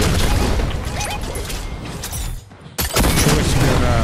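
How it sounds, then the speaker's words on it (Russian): Gun fired in Fortnite Battle Royale, a loud, close burst of shots with booming impacts, a short lull, then another sharp blast and more firing, with no talking. "Дай-ка я постреляю с этой пушки просто."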